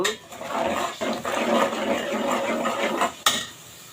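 Chilli powder and spices are stir-fried in a pan for a Bengali rohu fish and cauliflower curry, with a steady close sizzle, scraping of a spatula on the pan and a sharp clink near the end.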